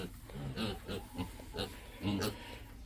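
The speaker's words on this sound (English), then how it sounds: "Watch out, piggies." Pigs on a family farm in the Yukon grunt and oink in a string of short, close bursts, fairly quiet, with a few soft calls overlapping.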